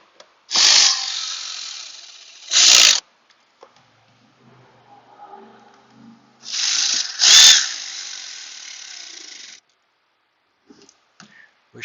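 A power tool tightens bolts on the blower motor of a 2006 Toyota Highlander, running in two loud, close bursts, each followed by a short higher whir, with quiet gaps and faint shop noise between.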